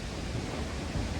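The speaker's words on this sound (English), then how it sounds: "It's so windy." Strong wind roars continuously with low rumbling gusts buffeting the microphone, a dense broadband rush with no other sounds.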